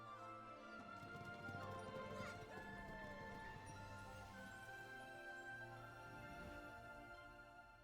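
Steady clip-clop of a horse-drawn carriage in the Infinity Nikki video game, moderately loud and continuous under bright game music, with no talking.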